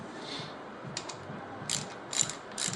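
A ratchet clicks through several short bursts of rapid pawl clicks while tightening bolts on an L series engine during a head gasket replacement, close and fairly quiet, with pauses between strokes.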